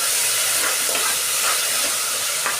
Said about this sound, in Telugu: ఇవన్నీ ఫ్రై కావని ఫ్రై అవ్వనివ్వాలి